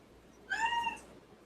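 A single clear cat meow, rising and then falling, sounds close by against a quiet background for about half a second, with no other voices.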